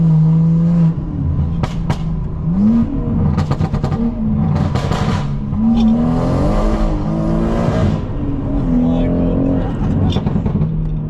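A BMW M140i tuned to around 600 bhp with a loud aftermarket exhaust back box, its engine revving and surging in repeated rising pulls, close and loud, with someone talking over much of it.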